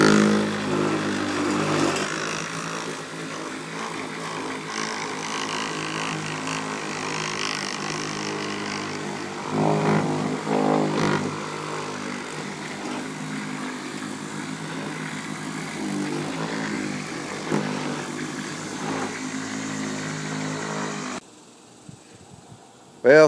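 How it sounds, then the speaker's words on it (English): A motorized buffing wheel runs steadily against a crazed, clouded car headlight, a loud continuous whirring drone that holds for about twenty seconds before cutting out. "5 or so minutes of buffing with the buffing wheel"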